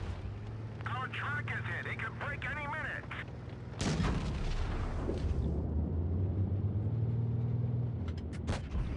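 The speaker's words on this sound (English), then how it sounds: "All we're going to do is try and put as many shots as we can in this E100 before we go." A tank cannon fires once in World of Tanks Blitz, a loud, sudden boom in a city area that dies into a rumbling engine drone, with a voice talking earlier in the clip.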